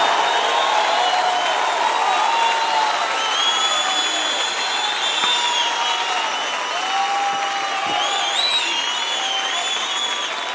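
A church congregation claps and cheers in a dense, sustained wave of applause, with whoops and whistles rising over it for the whole stretch.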